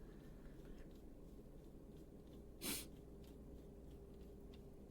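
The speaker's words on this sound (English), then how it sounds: "So if I keep sniffling, my freaking allergies are acting up." A single sharp sniff, brief and close, stands out over a quiet hum of room noise; the sniffling comes from allergies.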